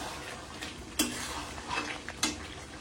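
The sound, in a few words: chicken being stirred and braised in a pan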